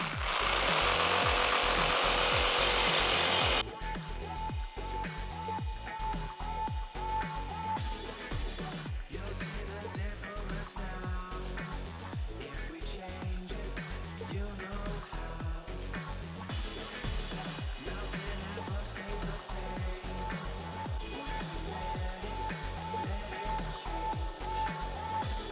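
A WORX WX550 multi saw cuts through an 8 mm board. A brief loud burst is followed by a steady, rapid reciprocating buzz with rhythmic rasping strokes that keeps running close and unbroken, with no talking.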